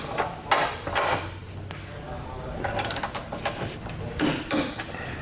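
Torque wrench tightening the hardware on a Roadmaster Direct-Connect base plate kit, with a series of clicks and ratcheting metal sounds in irregular bursts, close by, while a voice talks.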